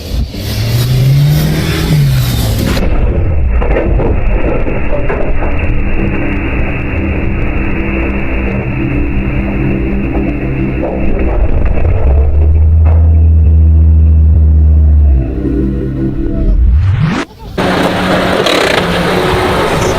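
A Mahindra Thar 4x4 stuck off-road, its engine revving hard and loud in repeated surges with rising and falling pitch, a deep rumble building toward the end, with no voices heard.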